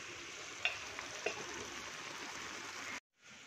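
Fish curry cooks in a pan with a steady, moderately quiet sizzle and a couple of small pops. The sizzle cuts out abruptly near the end, then faintly resumes. No one speaks.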